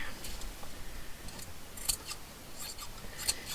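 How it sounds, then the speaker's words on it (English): Scissors snip a piece off junk journal material, producing a couple of faint, crisp cuts over quiet room noise with no talk. "If I can find where to cut a piece off, perhaps here."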